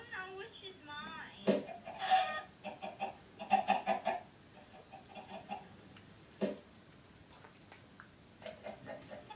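Cartoonish chickens cluck and squawk in the multiplayer video game Ultimate Fishing, short bursts of clucking heard up close alongside player chatter and game noises.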